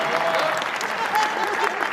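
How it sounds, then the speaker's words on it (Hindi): Audience at a Hindi kavi sammelan poetry recital applauding, steady dense clapping throughout, fairly close and loud, with some murmuring voices mixed in. "अपनी औकात में ताली बजा रहे हैं"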